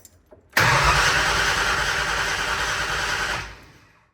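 A carbureted car engine with a freshly refitted starter motor catches abruptly and runs at a loud, steady close-range idle for about three seconds before shutting off and fading.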